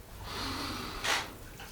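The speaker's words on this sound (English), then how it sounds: "with this forceful motion out, we're breathing out with force" A single forceful breath out during a qigong movement makes a short, close, breathy rush of air that swells and fades within about a second.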